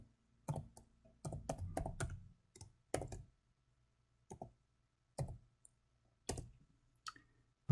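Typing a folder name on a computer keyboard: sharp, close key clicks in short irregular bursts separated by quiet pauses, quiet overall with no speech.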